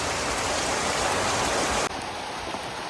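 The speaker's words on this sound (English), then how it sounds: "We're gonna go in the rain" Heavy storm rain pours down close by, a dense steady roar that drops to a quieter, lighter downpour partway through, with no speech.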